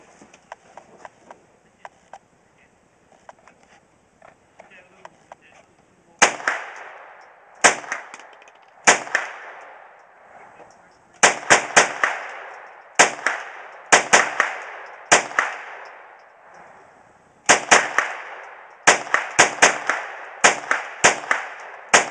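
Sharp gunshots from a GSG5 .22LR MP5-clone rifle ring out close and loud in uneven bursts of single and rapid shots after a quiet, clicky stretch of handling at the start.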